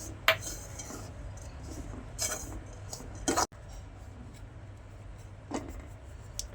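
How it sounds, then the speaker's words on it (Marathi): A spoon stirs and scrapes ingredients in a bowl to mix a gravy base, with a few distinct metallic clinks and taps separated by quieter stretches of soft stirring. "हे सर्व मिक्स करून असं घ्यायचं आहे"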